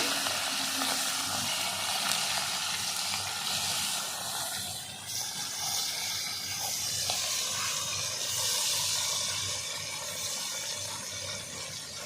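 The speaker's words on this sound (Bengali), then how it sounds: "তেলটা গরম হয়ে গেছে হঠাৎ করে মাছগুলো ছেড়ে দেবো তেলে ভেজে নেওয়ার জন্য" Salt-and-turmeric-rubbed bata fish sizzle loudly in hot oil, a steady dense crackling hiss that holds for the whole stretch with no talk over it.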